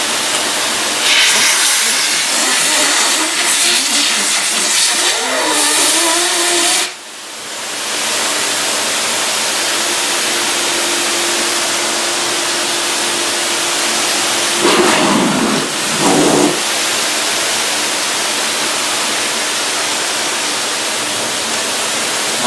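A Dyson cordless vacuum's cyclone pack is blown clean, giving a loud, steady rushing hiss of air that cuts out briefly and then resumes with a droning tone and a couple of stronger bursts.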